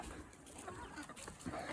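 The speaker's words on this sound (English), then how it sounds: "And you got all these chickens at my feet like normal." Chickens gather around someone's feet outdoors and cluck in faint scattered bursts at close range over a soft background hiss.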